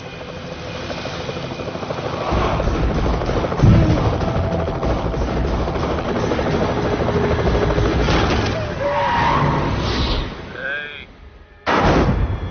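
A loud, steady rotor roar holds for several seconds, with a few sharp knocks and brief voices mixed in, then a short dip before the noise returns.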